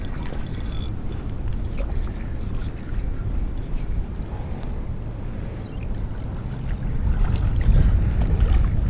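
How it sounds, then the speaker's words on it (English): Strong wind buffets the water and the microphone aboard a small fishing boat out after whiting, a steady low rushing roar that builds toward the end. "that wind's really starting to get up there now"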